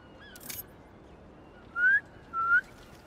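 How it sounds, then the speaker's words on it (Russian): Two short rising whistles, close and clear, call pigeons in the Marvel's Spider-Man 2 video game, preceded by a brief noisy rustle over a faint background hiss. "Попробуй свистнуть."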